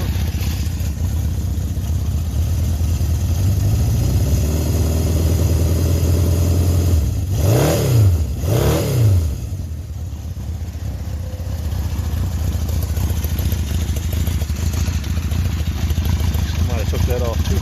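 A 1976 Honda CB750 motorcycle engine idles steadily nearby, with a pair of brief revs in the middle before it settles back to a smooth idle; someone talks over it at times.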